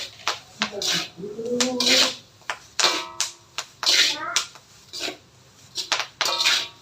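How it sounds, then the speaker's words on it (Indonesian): Dried maggots being stirred in a wok, with repeated scraping and clattering strokes of a utensil against the pan in steady bursts, close and fairly loud, with occasional faint voices in the background. "harus mengaduknya terus menerus sampai bunyi kotak-kotak itu menghilang"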